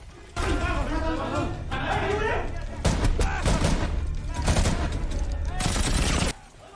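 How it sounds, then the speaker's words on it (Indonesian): Bursts of rapid gunfire crackle through a chaotic film shootout at a police station, with loud volleys and booms stacked over shouting and dramatic background sound. "tiba-tiba aksi tembak-tembakan akan kembali terjadi di kantor polisi tersebut"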